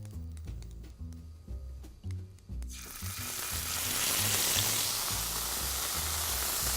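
Beef for tataki laid into hot oil in a pan: a quiet stretch of faint kitchen knocks, then a sudden loud sizzle that swells and holds as a steady, hissing fry.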